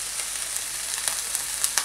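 Bean shoots stir-fried in a hot pan for chow mein, a continuous close sizzle with occasional sharper spits and pops, no voices.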